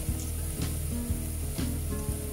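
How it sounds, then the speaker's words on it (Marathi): Spices sautéing in a pan with fried tomato, making a steady hiss and crackle with a few soft utensil scrapes, close and fairly loud, without speech. "हे छान 1 मिनिट जरा आपल्याला परतून घ्यायचंय, छान मसाल्याचा फ्लेवर आला पाहिजे"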